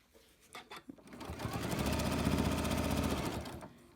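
A sewing machine runs steadily to sew down the edge of a quilt block, starting after a few soft handling clicks, holding a loud continuous whir for about two seconds, then slowing to a stop.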